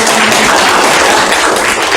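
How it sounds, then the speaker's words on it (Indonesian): Fifth-grade pupils in an Indonesian science classroom clap together in a loud, dense burst that fills the whole moment without pause. "Tepuk tangan dulu dong."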